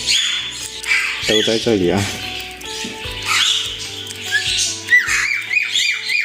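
Free-range mynah birds, moulting, squawk and call repeatedly nearby in the open air, with harsh chattering and whistled notes mixed with a voice talking over them.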